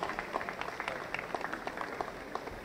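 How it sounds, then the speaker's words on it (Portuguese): Audience applause at a 60th birthday celebration for Papa Paul Kisolokele, a steady wash of clapping from a gathered crowd, fairly close and continuous throughout with no talking over it. "Mais uma salva de palmas"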